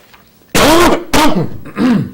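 Three loud, harsh coughs close up at a village board meeting, the first two in quick succession and a third after a short pause.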